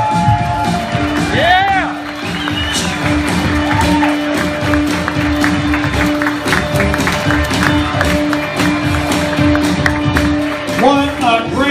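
A live comedy club audience applauds and cheers as stand-up comic Steven Brody Stevens is introduced, a dense, loud wash of clapping with scattered whoops and shouts running throughout, a voice calling out over the crowd.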